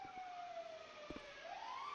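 An ambulance siren in GTA 5 wails in a slow falling-and-rising sweep, fairly faint and continuous over a low background hum.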